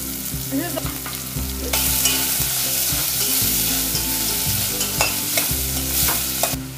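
Sliced cabbage hits a hot pan for Gobi 65 in Schezwan curry and bursts into a loud, continuous sizzle, with occasional stirring clinks over the frying, close up and without talk.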